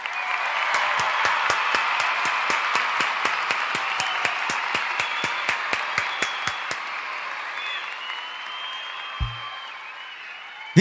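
A crowd applauds with sharp, regular claps that dominate the first seven seconds, then fade into a softer wash of clapping and cheering at a distance.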